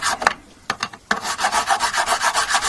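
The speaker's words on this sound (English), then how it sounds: "get sandpaper of different grades, and we'll polish this out to a smooth finish" Sandpaper rubs across the body of a 1980 Kay K30 retro Les Paul copy guitar, starting with a few separate scrapes and then settling into rapid, steady back-and-forth strokes, close and clear, with no talk.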